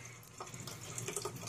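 Weak trickle of water from a tap fed by a submersible well pump delivering only 10 PSI, a thin steady hiss and splash heard close by with no talk.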